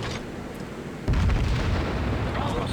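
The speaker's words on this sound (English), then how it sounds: "Put out quick salvo from my front guns to try and finish the Megami" Warship front guns firing a quick salvo in a naval video game, a deep rumbling boom that swells suddenly partway through and rolls on loudly to the end.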